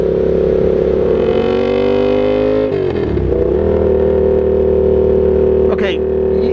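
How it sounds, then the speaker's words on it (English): A Yamaha FZ-07 with a Danmoto XG-1 full exhaust system, heard while riding, with a loud steady engine drone that dips as the revs shift midway, then holds at a constant pitch under wind noise and a rider's voice. "This is a loud exhaust."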